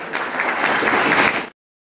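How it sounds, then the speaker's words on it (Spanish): Wedding guests burst into loud, dense applause for the newlyweds' first waltz, a steady wash of clapping that lasts about a second and a half before cutting off abruptly into silence. "Fuerte el aplauso, por favor."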